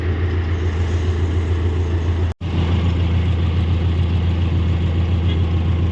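A heavy 2019 CRDI tractor engine idles loudly and steadily with a deep, constant rumble, briefly cutting out for a moment midway.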